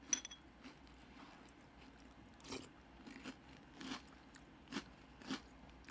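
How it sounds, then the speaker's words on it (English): Magic Spoon peanut butter cereal is crunched while eating, a string of faint, close biting and chewing crunches that comes in irregular bursts with quiet gaps between them. "The crunch is very unusual."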